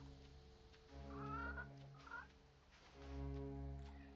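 Chicken in the video game Reka gives a few soft clucks and a brief squawk over a steady low musical drone, quiet and with no talk.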